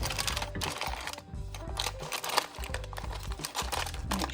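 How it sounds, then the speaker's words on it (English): Aluminum foil from a pork chop pan is folded up by hand, producing close, crisp crackles and crinkles in quick irregular bursts with short pauses between them. "I just fold the foil up."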